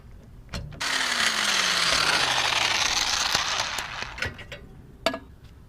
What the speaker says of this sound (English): I'm just going to use an impact gun to get it the rest of the way off since it's loose now.